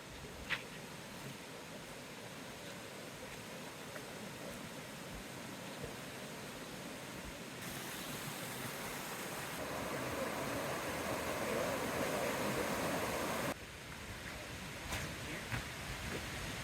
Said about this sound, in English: I can see the waterfall. It's really big.